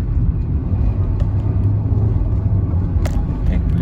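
Kia Carens 1.5 naturally aspirated petrol car driving, a steady loud low engine drone and road rumble heard from inside the cabin, continuous with faint clicks.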